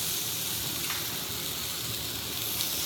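Steak frying in a hot pan: a loud, continuous, close sizzle with a steady crackling hiss and no break, alone without talk.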